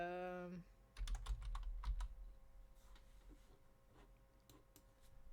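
Computer keyboard typing during a cosplay stream, a few close clicky keystrokes in short bursts with quieter gaps, following a brief tonal sound at the start.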